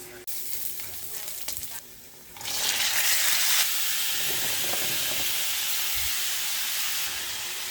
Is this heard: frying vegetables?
yes